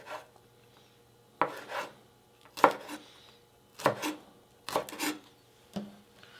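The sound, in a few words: slicing green onion with a knife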